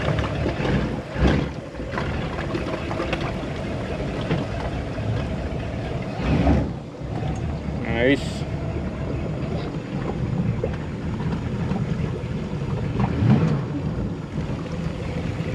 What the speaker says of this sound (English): I can't believe how smooth the engine is